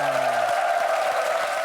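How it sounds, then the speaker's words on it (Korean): A studio audience applauds army reservists and active-duty soldiers of a Korean home-defense division, a dense, even wash of clapping heard close and steady for a brief moment. "이분들에게 박수를 한번 보내주시기 바랍니다"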